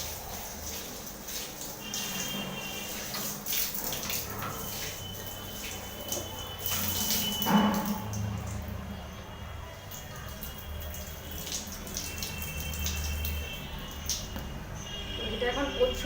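Running tap water washes an item in a home setting, a steady splashing and trickling stream that carries on throughout. Someone speaks over it, and a brief louder splash comes partway through.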